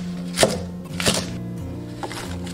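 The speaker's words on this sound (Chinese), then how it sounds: "蒜粒直刀切小段" A kitchen knife chops garlic sprouts into short pieces on a cutting board, giving three or four distinct, moderately loud thunks spaced about half a second apart over a steady low background hum.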